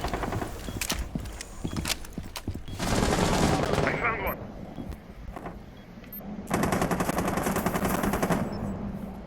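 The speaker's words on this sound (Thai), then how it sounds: "เขายิงกล้องเราอะ" Rapid automatic gunfire in the tactical shooter Rainbow Six Siege, loud bursts of dense shots in two main stretches with scattered single cracks between, close and continuous over game ambience.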